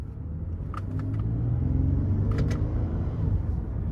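A 2008 Lexus ES 350 with a 3.5-liter engine and 184,000 miles pulls away in first gear using its manual shift mode. A steady low engine rumble climbs through the clip, heard from the cabin without talk.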